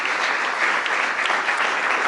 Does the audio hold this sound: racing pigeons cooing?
no